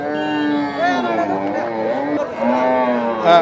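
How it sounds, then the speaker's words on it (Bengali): A beef cow moos loudly and close at a cattle market, one long drawn-out low call that rises and falls, with faint voices around it. "মাংসে যায় এরকম একটা গরু।"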